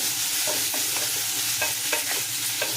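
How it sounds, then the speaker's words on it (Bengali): Cubed bottle gourd is stirred in a kadai, giving scraping spatula strokes in an uneven rhythm over a constant sizzle from hot oil, close and clear, with no voices. "কিউব করে রাখা লাউগুলোকে দিয়ে দিলাম কড়ার মধ্যে, একটু নেড়ে চেড়ে নেব।"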